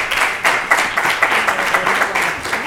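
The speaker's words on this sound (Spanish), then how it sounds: "Un fuerte aplauso para ellos." Audience applause for presenters at a presentation, a small group clapping close by with distinct, fairly loud individual claps in an uneven rhythm, no voices over it.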